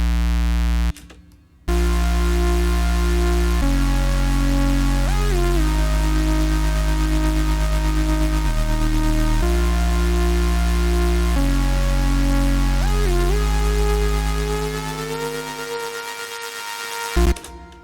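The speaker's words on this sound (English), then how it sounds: "it goes into like this big saw kind of moment, which is basically like the pre-chorus or like the build" A dubstep remix build plays a sustained synthesizer saw wave layered with a square wave, its steady buzzing chords stepping through changes with short pitch bends, loud and alone without talk.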